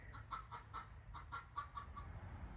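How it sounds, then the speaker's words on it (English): Chickens clucking softly in a repeating series of short calls, fairly distant over a steady low background rumble. "So it's like the chickens are laying some eggs today."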